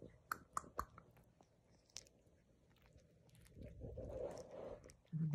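A miniature poodle puppy chews and bites on a blanket nearby, giving a few sharp crunchy snaps early and then a longer stretch of soft, wet gnawing and mouthing that grows louder toward the end.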